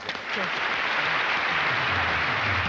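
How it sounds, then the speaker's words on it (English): Audience applause at the 7th annual Soap Opera Awards ceremony, steady and moderately loud, with a voice speaking briefly underneath at the start. "We applaud Nicolette."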